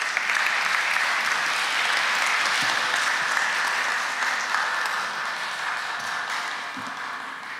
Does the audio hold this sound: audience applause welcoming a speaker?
yes